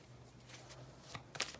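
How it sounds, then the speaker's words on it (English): Tarot cards given a quick shuffle by hand, a soft papery riffle and slide that ends in a couple of sharper card snaps, close and quiet. "Give these a quick shuffle."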